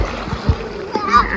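Water splashes and sloshes as someone dunks under in an outdoor swimming pool during a summer pool party. Short watery bursts sit close up, with voices talking throughout.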